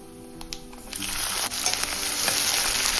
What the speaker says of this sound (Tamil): அதுக்கப்புறம் வெங்காயத்தை போட்டு வதக்கி எடுத்துக்கலாம்